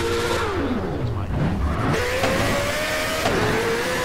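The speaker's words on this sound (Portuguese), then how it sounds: "Olha o áudio da aceleração" A sports car in GTA, fitted with a modded sound pack, revs hard and loud, dropping in pitch then climbing again as it accelerates through the gears.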